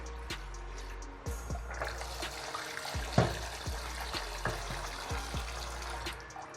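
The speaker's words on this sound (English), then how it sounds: "So I'm just washing our rice to remove the starch on top of it before I put water" Ofada rice is washed by hand in water, with splashing, sloshing and dripping that come in uneven bursts and one sharper splash near the middle, close and fairly quiet, with no speech.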